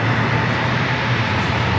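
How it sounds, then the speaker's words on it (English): A Lufthansa Airbus A350 taxiing at San Diego airport, heard as a steady, continuous low jet-engine rumble and whine that holds an even level throughout, with no voices. "We do have the Lufthansa A350 also starting its taxi here."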